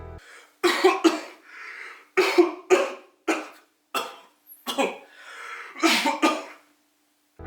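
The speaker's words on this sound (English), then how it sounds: "Make sure to keep an eye on that cough, mister." A man coughing in repeated harsh, close bursts, several fits of two or three hacking coughs separated by short pauses, loud and alone.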